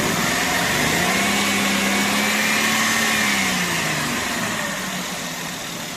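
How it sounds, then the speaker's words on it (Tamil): A Maruti Estilo car engine idles smoothly and steadily up close, a constant hum with a slight rise and fall in pitch, fading a little toward the end. "என்ஜின் சவுண்டு கேளுங்க, ரொம்ப ஸ்மூத்தாக தான் இருக்குது இந்த வண்டியில் சவுண்டு."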